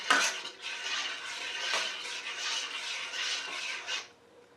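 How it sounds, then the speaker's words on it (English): A tablespoon of something is stirred into a corn mixture in a pot before the lid goes on: a continuous close scraping and clinking of a utensil against the pot for about four seconds, with no talk. "We'll give that a little bit of a stir."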